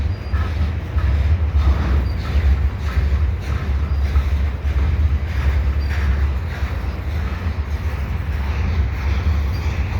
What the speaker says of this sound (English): This train, it looks like it's picking up speed